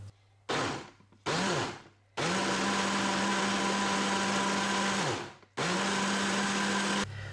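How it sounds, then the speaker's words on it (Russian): A kitchen blender whirs through liver pancake batter in several bursts, short pulses first and then long steady runs, loud and close, with no talking. "Все это я сразу забью блендером."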